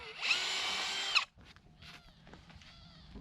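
A power drill bores a pilot hole in wood for a DIY raised garden bed, whining steadily for about a second before cutting off, followed by faint handling and clatter.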